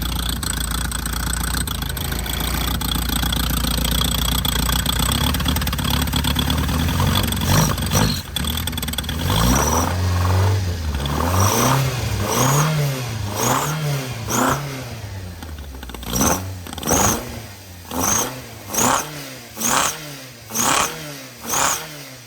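A Toyota AE86 car engine starts and then revs in repeated sharp bursts, climbing and falling several times, loud and close; no voices are heard.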